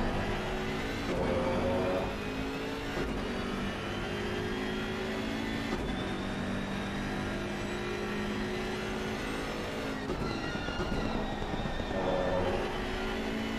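BMW M6 race car in a sim racing game at Imola, its engine droning loudly and continuously with rising revs and gear shifts, while other cars' engines blend in.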